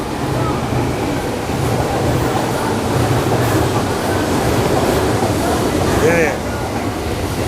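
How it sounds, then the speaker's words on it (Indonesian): A train passes close by with a loud, steady rumble that lasts throughout, while people talk over it. "Kita akan kembali setelah kereta yang mau lewat."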